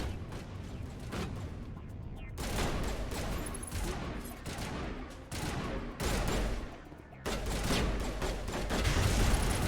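Enemy gunfire in Mass Effect roars in dense, continuous bursts, loud and close, with brief pauses between volleys and a heavier barrage toward the end.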